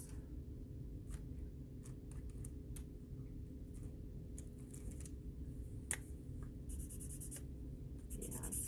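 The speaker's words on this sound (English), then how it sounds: "So you can also shade with pencil" A pencil shades on paper in soft, close scratchy strokes, repeating in quick irregular bursts over a quiet, steady hum.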